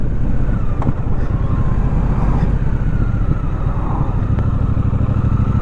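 Continuous engine drone of a Triumph Speedmaster motorcycle on the road, heard from the rider's position with steady wind and road rumble, loud and unbroken with no talking.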